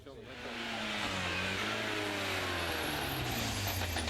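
Rally car engine droning loud and steady through a tight hairpin at Grouville on the 2011 Jersey Rally, its tone rising and shifting over about four seconds, with a commentator talking over it.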